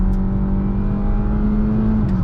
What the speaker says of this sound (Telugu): సో నేనైతే ఫుల్ యాక్సిలేటర్ ఇస్తున్నాను, ఫుల్ లాస్ట్తో తొక్కేసాను